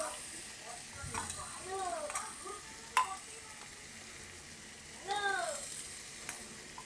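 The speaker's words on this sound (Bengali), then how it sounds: "এটাকে ভালো করে ভেজে নেব" Boiled, hand-cut meat pieces fry with spices in a pan, a soft steady sizzle broken by a few louder stirring scrapes and clinks, with a voice speaking faintly at times.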